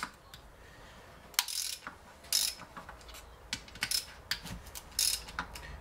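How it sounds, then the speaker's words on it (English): A ratchet wrench working loose gearbox bolts on a Peugeot 207 with a BE4 gearbox during an overhaul: close, fast clicking ratchet bursts in short runs separated by brief pauses, no talk. "So that's a whole lot of bolts to undo right now."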